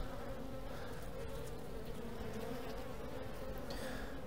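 Honeybees drone continuously in an open hive during an inspection after varroa treatment, a dense close buzz of many bees holding at a steady level throughout with no talking.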